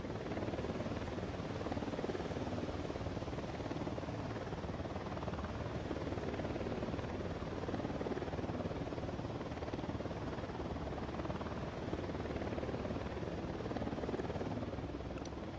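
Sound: helicopter approaching in Ghost Recon Wildlands video game

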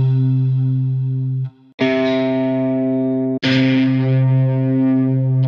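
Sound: Kontakt 8 Electric Mint electric instrument preset audio preview

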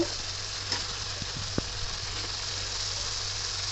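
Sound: vegetables (eggplant, yardlong beans) added to sizzling fish curry

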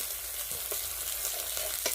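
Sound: food frying in a pan

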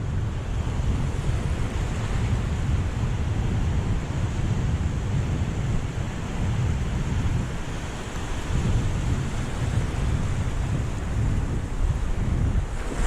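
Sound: sea waves on shore

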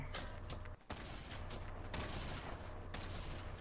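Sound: gunfire in the video game Fortnite

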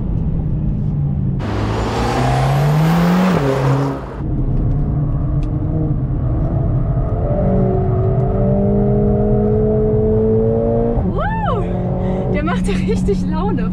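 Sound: loud car engine driving

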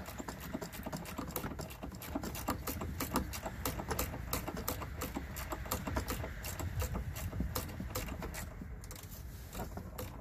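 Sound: ratchet with flex head cranking out a long bolt

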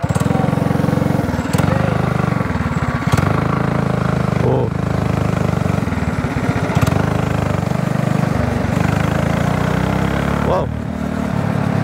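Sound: 200cc gas go-kart engine running

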